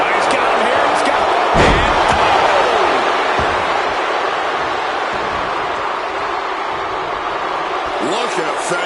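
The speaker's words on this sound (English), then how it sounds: "Counter right into a power slam." A wrestler crashes onto the ring mat in a power slam at a WWE WrestleMania event, a single heavy thud early on beneath the steady roar of a large arena crowd and commentators' talk.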